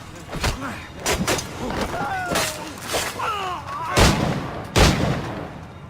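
Ship cannons in Assassin's Creed 4 boom in several heavy, irregular blasts, some close together and some spaced apart, among game effects, voices and music.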